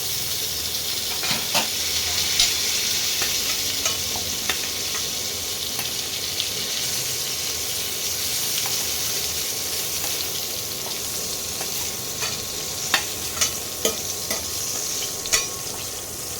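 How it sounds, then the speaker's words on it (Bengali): Pointed gourd (potol) frying in hot oil, cooked until reddish, gives a steady close sizzle throughout, with light scraping and clicking from stirring scattered across it and no talking. "পটলগুলো লাল লাল করে ভাজা হয়ে গেছে"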